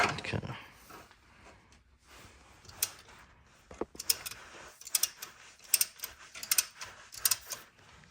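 A Subaru STI Brembo quad-piston brake caliper piston is turned back with a tool, giving faint, irregular ratcheting clicks and metallic ticks that come in short clusters, growing busier toward the end.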